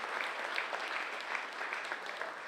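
Crowd at a sports preview event applauding steadily, a dense wash of many hands clapping at moderate distance that holds evenly throughout without breaks or voices.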